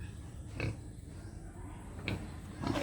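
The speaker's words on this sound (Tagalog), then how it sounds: "Ganyan ang baboy." A native pig raised for lechon gives a few short, fairly faint grunts and oinks over steady farmyard background noise.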